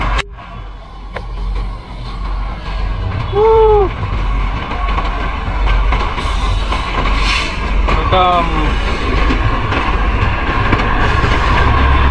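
A train on the Matheran line rumbles past close by with continuous heavy clattering, a few brief high squeals, and faint voices in the background.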